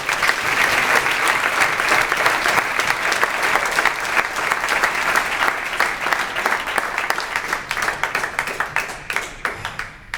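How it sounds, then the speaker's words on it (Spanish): Audience applause in a hall for a pair of presenters, a dense, steady wash of many hands clapping that runs loud and continuous for about ten seconds before thinning into scattered claps near the end. "podemos darle un aplauso a ellos"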